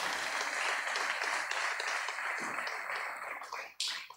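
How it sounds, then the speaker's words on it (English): A large graduation audience at a boys' secondary school in Grenada applauds its school athletes, a dense steady wash of clapping that holds for several seconds, thins briefly near the end and then swells again. "Let us give our athletes a lusty round of applause."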